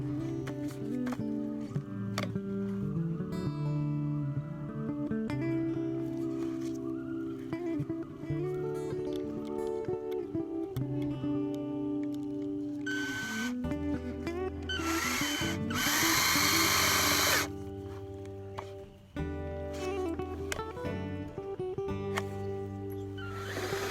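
Power drill driving fasteners to secure plates for an Alaskan sawmill outdoors, with repeated whirring bursts starting and stopping over background music and a loud noisy stretch midway.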